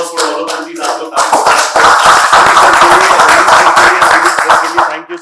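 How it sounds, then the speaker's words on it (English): Clapping breaks out from an audience at a film press event for the Jaat team, with Sunny Deol and Randeep Hooda present, building into loud, dense applause that holds for several seconds before tapering off, while faint voices sound underneath. "Can I have a huge round of applause for all of them?"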